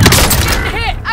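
Stun grenade and gunfire in Call of Duty Warzone during a bounty-target objective, a dense loud burst of shots and blast noise with a voice calling out over it.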